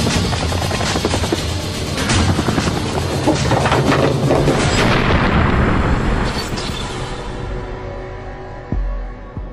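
A helicopter carrying hostages during the 1972 Munich Olympic massacre flies overhead with a dense, loud rotor and engine roar. Heavy rumbling surrounds it before the noise gradually thins and fades toward the end.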